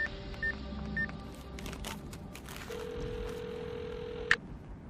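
A telephone being dialed, a few short tone beeps followed by a longer steady tone and a sharp click, fairly faint against quiet room noise.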